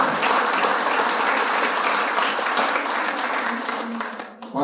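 Dense audience applause at a political list presentation event for Forza Italia in Termoli, steady and loud throughout before thinning out at the very end.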